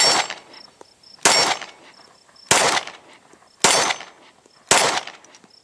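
A Glock pistol fires 115 grain Speer Gold Dot 9mm reloads, five sharp loud shots spaced about a second apart, each with a quick echoing tail and faint ringing between.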